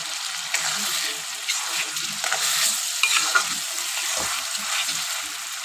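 Ground spice paste of tomato, garlic, ginger and green chili sizzles and frying with potato and onion in a pan, a steady close crackle with occasional stirring scrapes, no talk.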